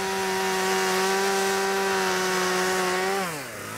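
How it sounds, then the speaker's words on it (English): A chainsaw cuts into Arctic sea ice, its engine droning at a steady high pitch near the saw, then dropping in pitch as the throttle eases at the end. "So we were chopping manually and using the chainsaws."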